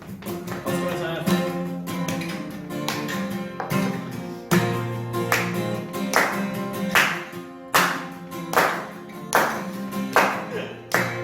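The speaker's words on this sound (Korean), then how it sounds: "박수로 찬양" A congregation claps along in steady rhythm to a hymn at a student worship service, sharp hand claps over singing and instrumental music, with the claps growing louder and more distinct toward the end.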